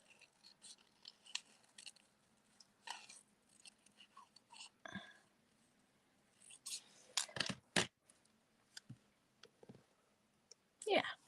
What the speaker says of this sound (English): I'm just going to take and just kind of rough cut around them